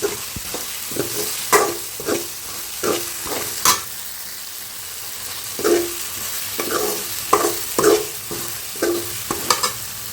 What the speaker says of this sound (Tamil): தக்காளி பேஸ்ட்டை ஆட் பண்ணிக்கலாம்